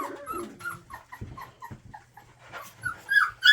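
Puppies in a kennel whimper and pant close by, with high squeaky whines and yips in short bursts over soft breathing and shuffling.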